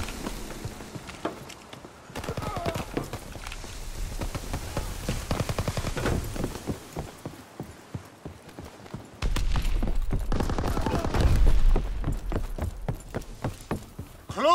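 Gunfire in Call of Duty: WWII, rapid repeated sharp shots in dense rattling bursts, loud and near, continuing over a rumbling battle background with a heavier stretch of fire midway.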